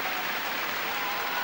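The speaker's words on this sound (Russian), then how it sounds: "Зрители выполняют эту гимнастику, встают и хлопают" A packed stadium crowd at a figure skating event stands and applauds a Canadian ice dance pair, producing dense, steady clapping that fills the whole moment without pause, loud and enveloping, with no voices standing out.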